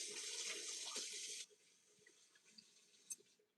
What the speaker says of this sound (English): This is my shrimp fork. I'll rinse it off actually.